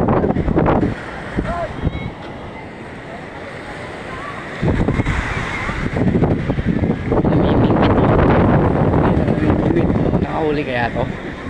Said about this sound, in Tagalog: Ang lakas ng alon. Grabe oh.